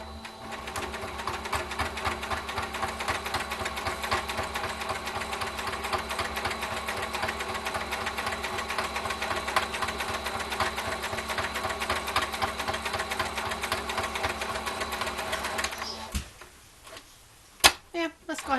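A sewing machine stitches fabric for a Christmas cutlery holder, a steady rapid needle rhythm running close and loud for about sixteen seconds before stopping, followed by a few brief handling clicks.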